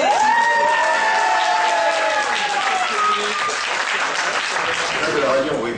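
A crowd at the Mulhouse Christmas market on Place de la Réunion applauds steadily for an arriving radio host, with scattered cheers and whoops and sustained tonal sounds running over the clapping throughout.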